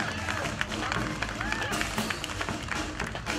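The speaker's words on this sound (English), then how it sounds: "Big round of applause." An outdoor community-days drum and bugle show audience applauds the Cantanning Firemen's Band, a steady wash of crowd clapping heard a little distant, with voices mixed in.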